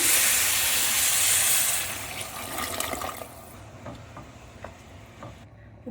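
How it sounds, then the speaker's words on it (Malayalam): Water poured into a hot pot of jackfruit veg biryani gives a loud, steady rushing pour with steam hiss for about two seconds, then fades to softer bubbling and sizzling. "ഇനി വെള്ളം ഒഴിക്കാം"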